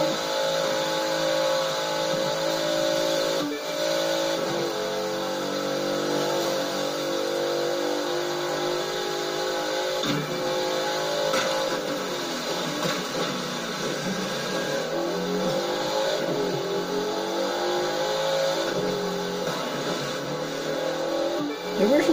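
A street car's engine revs and roars during a race in a video game, a sustained mid-pitched drone with shifting tones and occasional bumps, while a voice talks over it at times.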